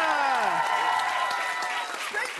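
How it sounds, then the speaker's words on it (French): An audience applauds the grand winner of a televised step show competition. The dense clapping runs under a voice and music at the start and continues steadily to the end. "Un bonne main d'applaudissement pour notre grand gagnant, Stéphane Crête!"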